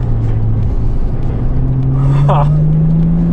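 A Toyota Chaser runs on a race track in second gear, its engine droning loud and close with a tone that slowly rises, while a voice briefly comes through over the engine noise.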